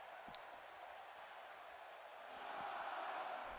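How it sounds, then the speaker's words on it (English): A faint, distant wrestling crowd murmurs and roars steadily, swelling slightly louder toward the end, an arena audience heard through a live broadcast feed. "The crowd's coming through now."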